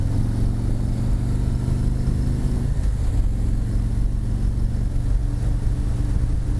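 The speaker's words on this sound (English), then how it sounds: "Listen to these pipes for a minute." A Harley-Davidson Road Glide Ultra motorcycle's exhaust rumbles with a deep, steady drone while cruising in sixth gear, a constant low throaty note with wind noise and no talking.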